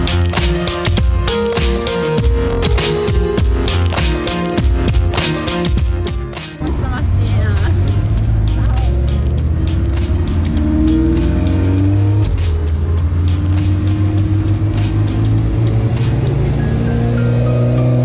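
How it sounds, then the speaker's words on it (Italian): A car's engine is warmed up before a hill climb stage, revving in repeated blips and then settling into a steady idle, with a voice speaking over it. "Adesso scaldo la macchina e poi parto."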